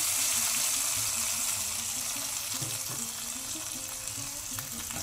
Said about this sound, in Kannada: ಈಗ ಈ ಒಗ್ಗರಣೆ ಇದಕ್ಕೆ ಹಾಕುವ.